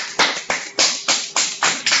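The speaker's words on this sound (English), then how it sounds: "I think she deserves a clap at least." A classroom of students claps in a slow, even rhythm, about seven sharp claps close by with short pauses between them and no voices.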